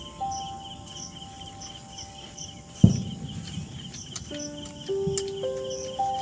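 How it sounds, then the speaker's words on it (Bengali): Crickets chirp at night in a village setting, a steady faint insect trill running throughout, with a sharp knock partway through and some thin tonal sounds later. "ঝিঝি পোকা ডাকছে"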